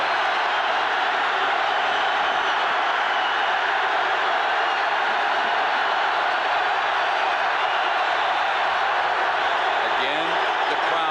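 A packed stadium crowd at a 1987 Oklahoma at Nebraska college football game produces a constant, broad roar under a commentator's voice, steady and dense with no distinct peaks.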